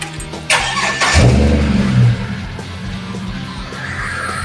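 A Holden VX Commodore engine cranks with a brief starter whir, catches with a loud low rev flare, then settles into a steady, throaty idle, heard up close with no talking.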